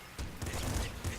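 Flak cannon in the video game Nuclear Throne firing shells, a rapid run of punchy, booming shots in quick succession, loud and close, with a brief pause before a final burst.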